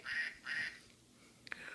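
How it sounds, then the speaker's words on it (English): Two nasal duck quacks in quick succession, fairly faint, followed by a short sharp sound after a pause. "That's a duck."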